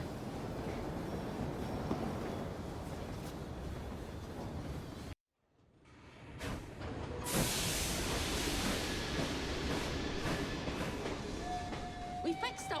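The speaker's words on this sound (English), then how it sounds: "We fixed up the train for you" A steam train runs in Assassin's Creed Syndicate with a steady broad rumble and rattle. It cuts out briefly, then swells back louder with a hissing, clattering roar and faint tonal whistles near the end.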